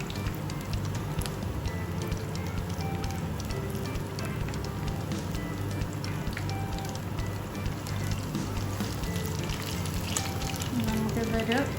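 Pazhampori, ripe banana fritters, frying crisp in hot oil: a steady, dense sizzle and crackle that runs unbroken and fairly loud throughout, with occasional small pops rising above it.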